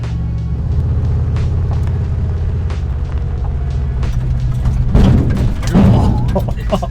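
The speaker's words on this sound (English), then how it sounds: "That's the engine." A vehicle's engine rumbles deep and loud as it drives through water, with swelling low thuds and surges near the end.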